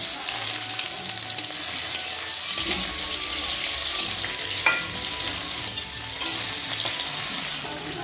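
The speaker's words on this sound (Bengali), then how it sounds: "আর এদিকে কড়াইতে আমি দিয়ে দিয়েছি সাদা তেল, ফোড়নে দিচ্ছি শুকনো লঙ্কা, পেঁয়াজ কুচি আর রসুন কুচি।" Dried red chillies, chopped onion and garlic hit hot oil in a Bengali kadai, giving a steady bright sizzle with occasional stirring scrapes and clinks, close and fairly loud without speech.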